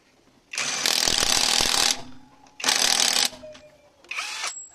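Budget impact wrench tightening lug nuts on a 2024 Toyota Wigo at low speed, three loud close bursts of rapid rattling hammering separated by short pauses, the last burst shorter.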